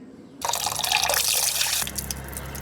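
Tap water gushes suddenly over meat being washed in a village kitchen, a loud steady splashing stream that drops to a quieter running trickle after a second and a half.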